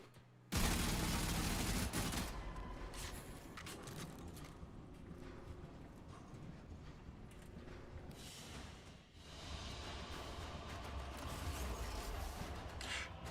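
Automatic gunfire in a video game empties a full magazine as a loud, rapid burst lasting a couple of seconds, then gives way to a busy spread of mechanical clatter and further shots.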